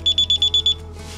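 A DSC NEO alarm system keypad sounding its alarm, six sharp, evenly spaced high beeps close by, then a brief hiss as the beeping stops.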